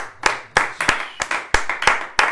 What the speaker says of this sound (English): It's been a long time since we've clapped